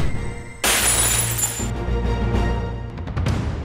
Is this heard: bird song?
no